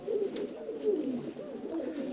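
Domestic pigeons from the Donetsk region, kept in temporary care, coo steadily and close by in low, soft, rolling phrases with no pause.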